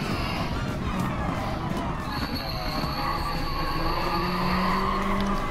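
Onboard racing car accelerating in a racing video game, engine droning steadily with rising pitch, tyre noise and crowd ambience mixed in, no speech.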